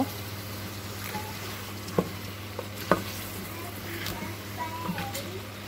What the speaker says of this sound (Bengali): এখন আমি সিমটাও দিয়ে দিলাম দিয়ে এটাকে আমি ভালো করে নেড়ে চেড়ে কিছুক্ষণের জন্য ডেকে রাখবো